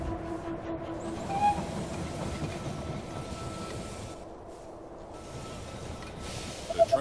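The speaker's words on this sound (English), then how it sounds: "The train has arrived at the station." Train arriving at a station in They Are Billions, a steady rolling rumble of rail cars with faint clickety-clack and brief squeals, with a few sharp clanks near the end.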